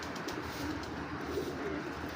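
A long-faced pigeon coos softly in a low, continuous rumble, close but faint, with no talking.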